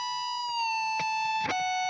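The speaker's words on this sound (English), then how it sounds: "And then on the last bend here, we will hear it come back down." A sustained, distorted electric guitar bend from a solo rings steadily and then drops back down in pitch near the end, loud and with no voices.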